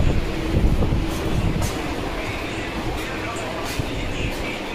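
A train moving through a station, heard as a continuous low rumble mixed with wind buffeting against the microphone, with faint voices in the background.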